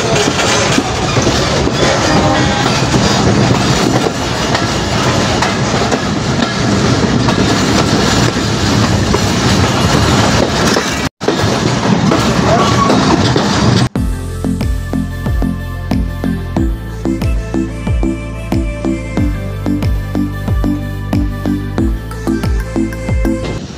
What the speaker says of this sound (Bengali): তিতুমির এক্সপ্রেস ট্রেনটি ফুলবাড়ি রেলওয়ে স্টেশন ছেড়ে গেল।